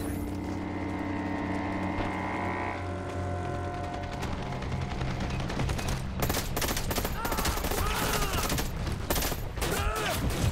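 Sniper rifle and other gunfire in a multiplayer shooter video game, rapid bursts of shots and mechanical clicks over a dense background of in-game noise, with a voice briefly heard.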